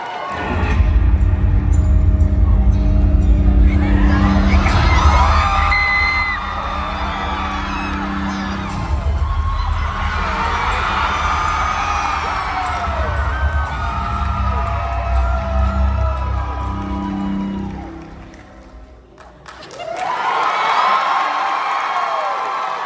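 A large crowd at a Halloween Horror Nights announcement for Universal Orlando's 35th year cheers, whoops and shouts loudly. The roar swells and dips over about twenty seconds before surging again.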